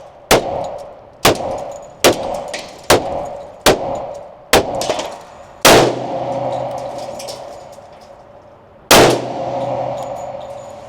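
Shots from a Smith & Wesson M&P 10mm pistol with a feeding fault, seven sharp, loud reports at an even pace, then a pause and two more separated shots, each ringing out outdoors with no talking.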